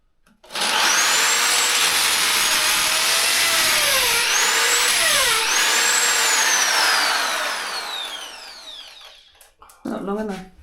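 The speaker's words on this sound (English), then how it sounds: "Just drill a hole right through." A power drill grinds continuously for several seconds, boring through a thick stone wall, pitch wavering as it bites into the hard material, then winds down; a voice speaks briefly at the end.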